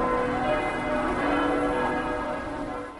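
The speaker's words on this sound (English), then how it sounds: "bells rang across Rome" Church bells toll across Rome, their layered metallic tones blending into a dense, resonant wash that hangs steadily over the city.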